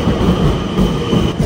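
A close, loud rumble from a moving train, a steady roar of wheels on rails with a faint metallic ring, heard alone without talk.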